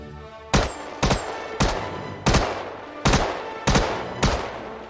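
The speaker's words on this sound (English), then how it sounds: "We're going to be using the P8 SMG to test this." P8 SMG fired in the video game Star Citizen, seven evenly spaced sharp gunshots with short decays, loud and close, and no talking.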